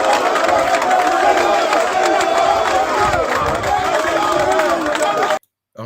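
Church congregation at a sermon by a prophet cheers and shouts in a loud, continuous crowd roar with clapping mixed in, running steadily until it cuts off abruptly near the end.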